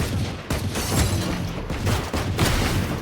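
Gunfire in the Valorant video game comes as a dense run of loud, close rifle shots and booming impacts that barely let up across the moment.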